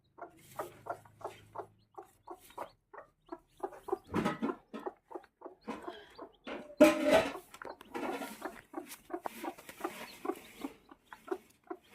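A brooding hen clucking close by in soft, rhythmic repeated calls, with a brief louder ruffle midway; no talking.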